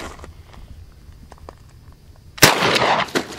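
A Mossberg 590 shotgun fires a single loud, sharp blast of low-recoil buckshot outdoors after a quiet stretch, the report ringing briefly and then falling away.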